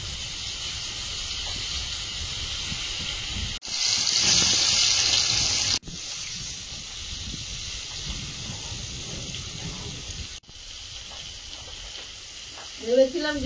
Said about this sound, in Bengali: লোটে মাছগুলো ভাজতে দিয়ে দেবো।